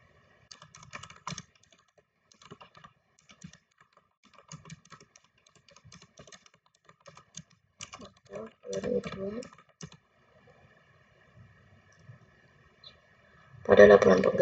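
Computer keyboard typing in scattered bursts of quick clicks, close and fairly quiet, with a person talking intermittently and a louder clatter at the end.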